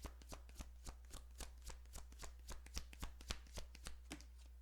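Tarot cards being shuffled by hand, a steady run of crisp, close riffling snaps and soft flutters repeating roughly every third of a second, quiet and alone without any talk.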